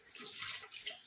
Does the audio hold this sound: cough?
no